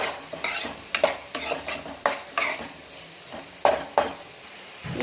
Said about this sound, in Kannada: ಇದನ್ನು ನೀಟಾಗಿ ಎಣ್ಣೆಯಲ್ಲಿ ಫ್ರೈ ಆಗೋ ಥರ ಹುರ್ಕೋಬೇಕು ಚೆನ್ನಾಗಿ.